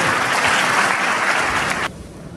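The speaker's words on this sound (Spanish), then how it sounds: "Y este aplauso es para todos ustedes." Loud audience applause, dense steady clapping from a crowd that cuts off abruptly near the end.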